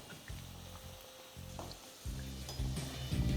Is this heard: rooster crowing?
no